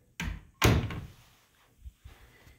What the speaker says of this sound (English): Nice heavy duty doors too,